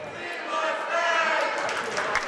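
A crowd in a high school gym at a boys' basketball game, Albert Gallatin at Laurel Highlands on senior night, cheers and claps steadily through the closing moments, a broad, moderately loud wash of noise that swells slightly toward the end.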